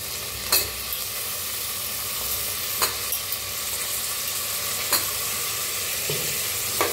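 Peas, potatoes and peanuts fry and sizzle steadily in a pan, with a spatula stirring and scraping against the metal in occasional sharp strokes over the continuous close crackle.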